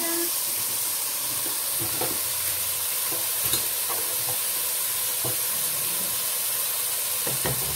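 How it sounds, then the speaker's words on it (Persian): Pasta stirred into a pot of boiling salted water with oil: a steady bubbling hiss fills the clip, broken by scattered soft clinks and scrapes of the stirring utensil. "داخل آب جوش ریختم و کمی به هم میزنم"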